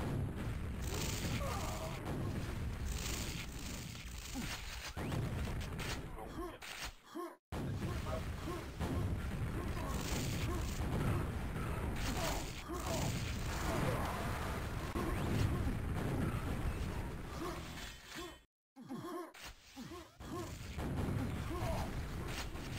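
Rocket blasts and booming weapon fire from a fast-paced Quake-style 2v2 deathmatch on the Shifter map, continuous loud crashes and explosions filling the whole stretch with only two brief gaps of silence.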